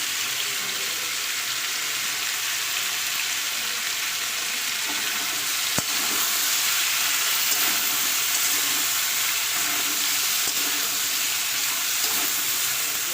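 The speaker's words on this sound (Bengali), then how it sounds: "সব আলুগুলো আমি কড়াইয়ে দিয়ে দিলাম আমি এগুলো খুব সুন্দর করে ভেজে নেব" Potatoes with turmeric fry in a wok with a loud, continuous hiss and crackle of hot oil, steady throughout with one brief click partway.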